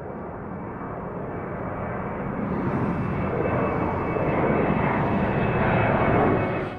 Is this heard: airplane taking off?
yes